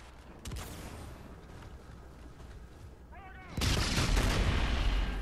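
Gunfire in a Call of Duty: Infinite Warfare gunfight, scattered shots at first, then a sustained loud burst of rapid fire near the end, with talking over it.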